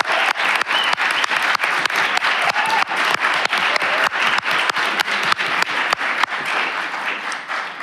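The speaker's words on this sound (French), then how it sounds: "si vous autorisez, applaudir tout le monde ici." Applause fills a council chamber at city hall: steady crowd clapping with several distinct louder claps close by, continuing without a break.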